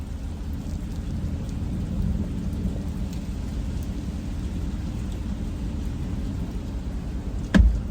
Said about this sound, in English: today I got caught in a hailstorm